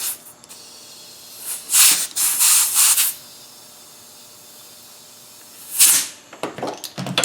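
Compressed air hissing in bursts through a valve to inflate an inner tube inside a split-rim lawn tractor tire, two loud spurts of roughly a second or more each, separated by quiet pauses.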